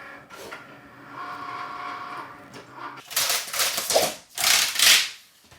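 A Cricut cutting machine slicing transparency film on a mat, first a steady mechanical whir, then louder rapid scraping and buzzing bursts as the blade carriage moves back and forth.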